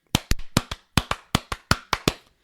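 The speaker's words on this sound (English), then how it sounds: "get a sync clap for that for Aaron?" A run of about eleven sharp hand claps in quick, slightly uneven rhythm, close and dry, podcast hosts clapping for a sync mark with no talk over them.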